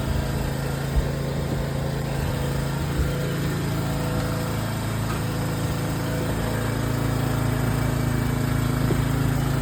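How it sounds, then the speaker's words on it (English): The starboard engine of a 1995 31-foot Silverton yacht runs in a steady, loud, close drone with a constant low hum, heard throughout without pauses or talk. "I want to show you guys now the starboard engine running now"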